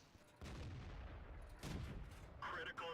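Tank cannon fire in World of Tanks, a deep booming blast with a long rumbling tail followed by a second heavy shot, then a sharper metallic impact near the end, loud and dense throughout.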